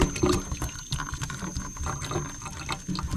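Warm water runs from a kitchen tap while pheasant back mushrooms are rinsed, a steady close splashing stream with slight shifts as the mushrooms are rubbed under it.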